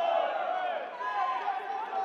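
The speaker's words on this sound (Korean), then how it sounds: "양 팀을 응원하고 있는 함성 소리가 커지고 있습니다" Crowd cheering for both teams fills a university volleyball match between Chosun University and Sungkyunkwan University, a steady, distant roar of voices in a gym during the 2017 university league.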